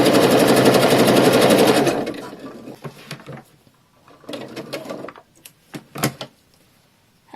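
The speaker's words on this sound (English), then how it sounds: "I was sewing the leg" Sewing machine stitching a three-step zigzag on a panty leg, running fast and loud for two seconds, then stopping, followed by soft scattered handling clicks and short bursts of fabric movement.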